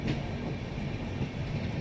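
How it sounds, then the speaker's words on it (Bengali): A departing train rolls out of the station at Jaipur, a close, steady low rumble with faint wheel clatter throughout. "এখন এই যে চলে যাচ্ছে ট্রেন"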